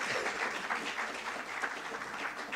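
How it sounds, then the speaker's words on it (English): Audience applause at a research seminar on the SDGs and Agenda 2063 as closing remarks are introduced, a steady wash of many hands clapping at moderate, fairly distant level without pause. "I don't have to ask for a round of applause."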